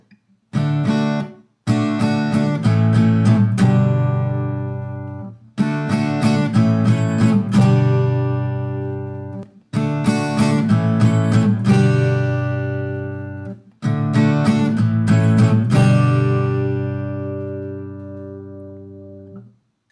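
A guitar rings out a chord progression in four long phrases, each strummed and held before a brief pause, bright and close with no voices.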